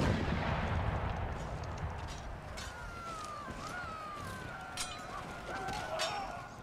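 Faint, distant artillery fire in the video game Empire: Total War, muffled booms and scattered cracks rolling under a low battlefield wash, with occasional whistling tones drifting above.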